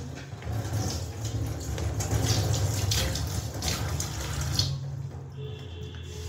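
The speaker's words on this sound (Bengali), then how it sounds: "এটা ছুরি চপার এগুলো দিয়ে আমি ধুয়ে নিচ্ছি" Tap water runs steadily into a sink as a knife and chopper are rinsed, a continuous close splashing rush with brief shifts as the blades move through the stream, then the flow softens near the end.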